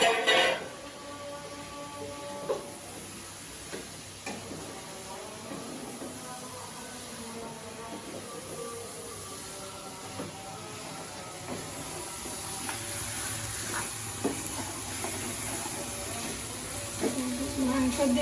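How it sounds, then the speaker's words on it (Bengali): Meat sizzles in a pan over a village cooking fire as it is stirred, a faint steady hiss with occasional scraping, while a person talks over it. "মাংস দিয়ে একটু নাড়াচাড়া করে দিছি।"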